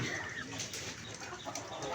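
Layer chickens cluck in a poultry house with bamboo cages, a steady murmur of soft calls blending into continuous barn noise with no clear single voice standing out.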